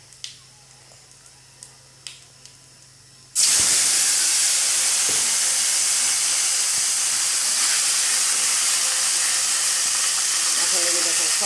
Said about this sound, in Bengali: এখন এই যে দেখুন সব আনাজটা আমি ঢেলে দিয়েছি।